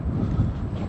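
Wind buffets the microphone outdoors near a steel works, a steady low rumbling roar with no break.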